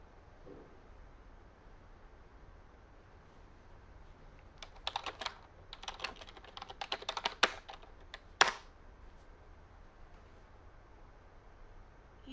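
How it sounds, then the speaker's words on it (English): Someone types on a computer keyboard, a quiet stretch then a flurry of close clicking keystrokes ending with one sharp, louder key press, followed by near silence. "he's like typing, giving her his credit card information"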